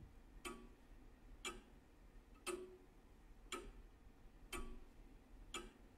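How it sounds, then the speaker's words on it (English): A clock in the video game Uncomfort ticks six times at an even one-second pace, each tick a crisp, close click over a quiet low rumble. "Oh, there's that annoying clock."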